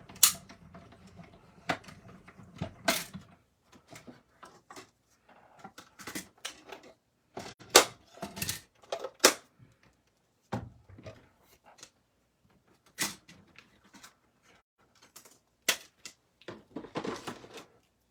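A die-cutting machine cranks pink paper through with a run of creaking, clicking mechanical clatter, irregular knocks and ratcheting bursts spread across the stretch, close and fairly loud in a quiet craft room.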